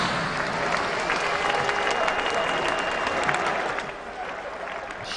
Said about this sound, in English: Huge cheer when Mahendra Singh Dhoni came out to bat.